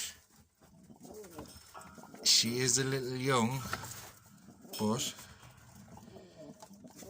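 Turkish Takla pigeons coo in a loft, one bird giving a loud, drawn-out warbling call in the middle and a shorter one after, with someone talking quietly around the calls.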